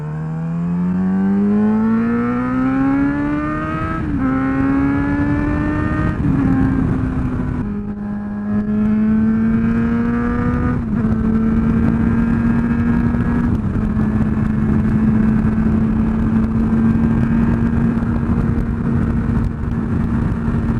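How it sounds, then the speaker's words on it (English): A car engine, likely an Aston Martin, revs loudly and steadily, its pitch stepping upward several times as it is dropped down through the gears into the power band, close and continuous for about twenty seconds with no talk. "I love how many gears you have to drop to get it into sort of the power band."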